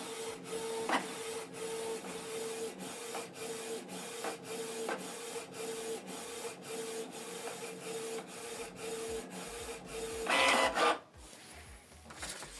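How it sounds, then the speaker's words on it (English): A Canon Pixma TS3751i inkjet printer prints an alignment page, close by and alone, with a steady mechanical whir broken by regular clicks and carriage shuttles, then a louder burst of feeding before it stops. "The printer will print alignment page."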